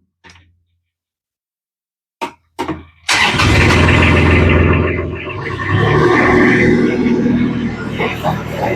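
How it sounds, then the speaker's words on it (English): A JoyT5 Rippa diesel mini skid steer cranks a few times and then fires up, its engine running loudly and roughly close by while filling a trench. "This skid steer is able to pick up the full buckets."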